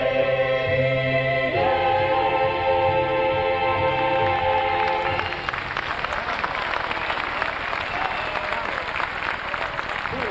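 A vocal-instrumental ensemble from the Sociedad Hebraica Argentina finishes a song at a formal inauguration event, then a large audience breaks into loud, sustained, dense applause that fills the second half.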